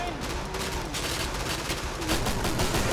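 Rapid gunfire in the co-op shooter Killing Floor, a dense, continuous stream of shots with no clear gaps, loud and steady and getting slightly louder near the end, with no talk over it.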